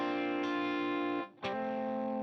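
A distorted electric guitar track in a studio mix, treated with effects, holds a sustained, buzzy chord that cuts out briefly and then rings on alone.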